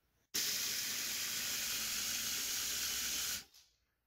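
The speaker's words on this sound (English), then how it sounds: "now all we're going to do is have this food processor run for a pretty good time" A food processor grinds peanuts into homemade peanut butter: a loud, steady whirring hiss starts abruptly, runs for about three seconds and cuts off.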